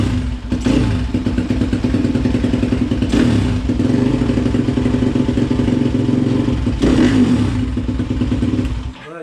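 A YCF pit bike, a motocross minibike with an electric starter, runs close by with a steady, loud engine drone throughout, broken by a few short revving blips.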